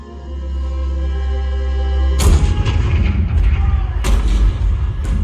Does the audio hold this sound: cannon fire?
yes